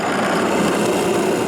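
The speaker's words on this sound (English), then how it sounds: "So I begin by drilling a shallow hole for the washer." A drill bores a shallow hole into a wooden spacer for a washer, giving a steady, continuous grinding whir at close range with no talking.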